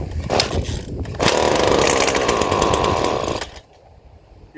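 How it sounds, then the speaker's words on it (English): A Stihl FS 56 RC weed eater on full choke fires after a single pull, its engine buzzing loud and close for about two seconds before it dies, leaving quiet background. "So right here, that full choke. I'm gonna give it one pull right there."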